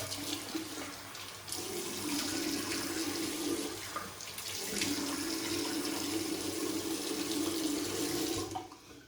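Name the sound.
water running from a tap while wetting face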